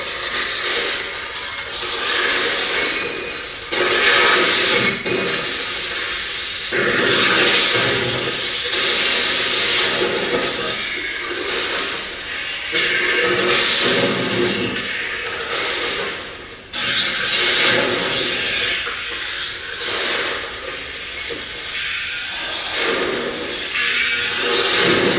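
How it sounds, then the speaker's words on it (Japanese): Early homemade rocket engine on a test firing that ended in an explosion: a loud, continuous broadband roar with hissing surges lasting the whole stretch, briefly dipping near the end before roaring on. "やっと作ったロケットエンジン試しに動かしてみたらこんな感じでした。"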